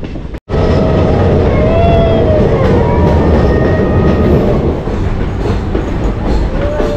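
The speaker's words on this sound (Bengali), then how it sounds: "আমাদের ট্রেন একের পর এক টানেল অতিক্রম করে দুর্দান্ত সুন্দর প্রাকৃতিক সৌন্দর্যের মাঝখান থেকে এগিয়ে চলেছিল।" Amaravati Express passenger train running through a series of tunnels near Dudhsagar, a loud, close, continuous roar of wheels and carriages with rhythmic clatter and faint metallic squeals, briefly cut at the start, no talk.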